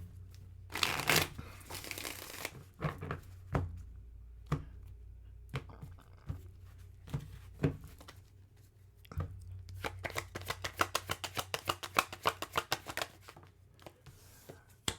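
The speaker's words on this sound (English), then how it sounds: "We'll give it another shuffle." Tarot cards being shuffled by hand, a run of crisp riffling and tapping close by with scattered pauses, ending in a quick rapid burst of card flicks.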